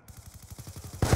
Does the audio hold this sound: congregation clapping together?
no